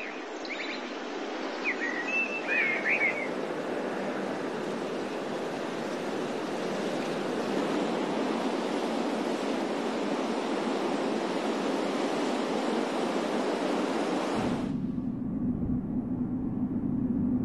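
Ocean waves break in a continuous, loud roar of surf, with a few bird chirps early on, before the sound drops abruptly to a much quieter low rumble near the end.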